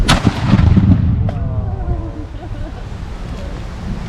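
At a Fort Velasco battle reenactment, a cannon fires with one loud, deep boom followed by a rolling rumble that fades outdoors, with a brief voice heard around the blast.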